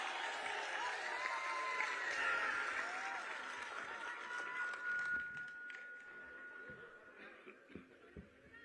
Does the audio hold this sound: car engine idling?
no